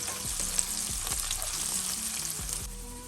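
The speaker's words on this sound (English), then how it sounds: "Next, add your oil, your peppers and onions. Cook these down a little bit." Peppers and onions cook in oil in a skillet with a soft, steady sizzle and faint crackles, while quiet tonal background sound runs underneath.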